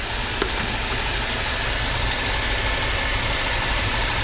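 A Mercedes 2.1 diesel engine idles smoothly, a steady, even rumble filling the short stretch at close range without voices or changes in pace.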